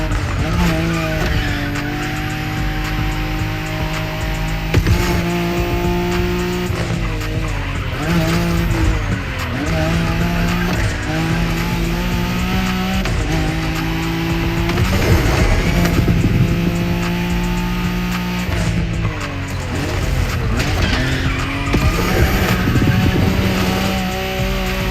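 A car drifts through a long slide in The Crew Motorfest racing game, its engine droning at high revs under a continuous tire squeal that wavers in pitch with small throttle shifts, loud and unbroken throughout.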